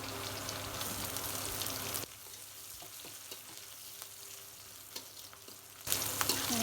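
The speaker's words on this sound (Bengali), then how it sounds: "পেঁয়াজ ভাজা হয়ে গেছে" Onions frying in oil with bay leaves, cardamom and cinnamon give a steady close sizzle with stirring scrapes, louder at the start and end and quieter in the middle, with no talk.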